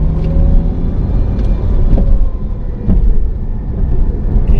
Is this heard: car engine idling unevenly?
yes